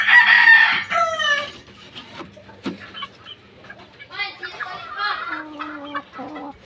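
A White Hats rooster shut in a cage crows loudly and close at the start, then gives softer clucks and calls, with a person talking nearby.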